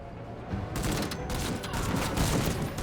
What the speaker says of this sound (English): Still under heavy fire